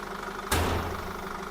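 A diesel tow truck engine with water in its fuel system turns over with a sudden loud catch and settles into a rough, steady low idle, close by.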